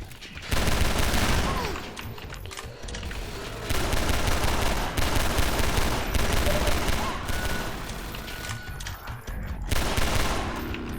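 Rapid pistol fire from a compensated handgun in the video game Half-Life 2: Episode One, loud bursts of shots repeating over about eleven seconds with in-game music and noise underneath.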